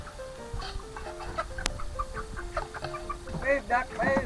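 Backyard chickens cluck repeatedly at close range in a busy, shifting chorus, growing louder toward the end, with a person talking over them.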